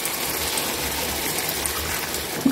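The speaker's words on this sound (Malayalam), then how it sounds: "അപ്പൊ ഞാനിതാ കുറച്ച് വെള്ളം ഒഴിച്ചു കൊടുക്കുന്നുണ്ട്." Water is poured into a pot of theeyal curry during cooking, a close, continuous gushing splash that holds steady and loud throughout the short moment.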